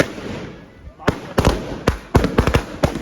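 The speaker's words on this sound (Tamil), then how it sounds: "நல்லா வெடி கொளுத்துவார்." Several loud firecracker pops burst out at irregular intervals during Pongal celebrations over a steady outdoor hiss.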